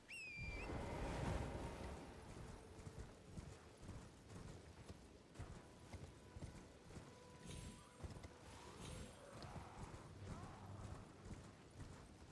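Horse hooves clip-clop steadily through a video game, a continuous rhythmic patter of hoofbeats with light background game sounds and no clear talk.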